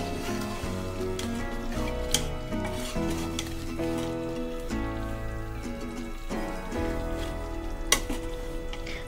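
Spiced meat for kosha mangsho being stirred as it fries in a pan, a continuous close sizzle with scraping and clinking from the stirring throughout, no talk.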